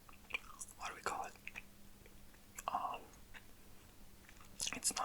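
Gum being chewed right at the microphone makes wet, sticky smacks and clicks in irregular bursts, with soft whispered speech between them.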